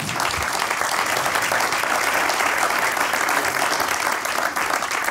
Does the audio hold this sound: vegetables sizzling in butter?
no